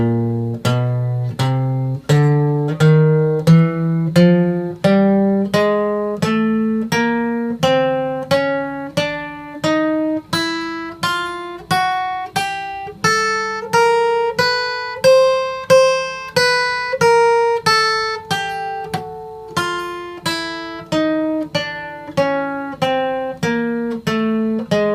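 A beginner's guitar exercise, palm-muted and alternate picked one note at a time, moves in a steady, even run of short plucked notes climbing and falling in pitch, loud and close without talk.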